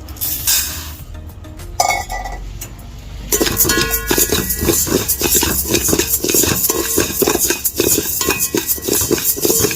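A cooking pan set down on a stove while making idli podi brings metallic clanks and a rapid run of clinking and rattling that carries on close by, with no talk.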